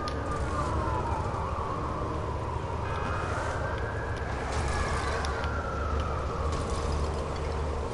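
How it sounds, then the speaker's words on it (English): Police car siren in a Lego undercover cops video game, a wavering wail rising and falling steadily over background game noise, continuous for several seconds. "Yes, a police car."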